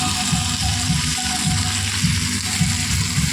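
Spice paste of onion, garlic, ginger, cumin and dried chilli fries in a pan with a loud, steady sizzle and faint rhythmic scraping of a stirring utensil, close up and without talk.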